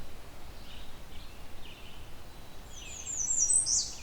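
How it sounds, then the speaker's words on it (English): A warbler singing in forest, its high thin trilling song rising near the end over a soft background of rustling and faint distant chirps. "There's one of its more commonly known songs."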